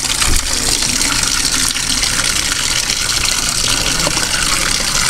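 Floodwater rushing along a swollen river in the Philippines, a dense, continuous gushing roar close by with no pauses.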